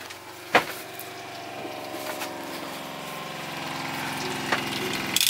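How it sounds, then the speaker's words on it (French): Camper van water pump starting up, a low rhythmic mechanical buzzing and pulsing close by with a sharp click near the start, running steadily at moderate volume. "c'est parti pour la pompe qui démarre"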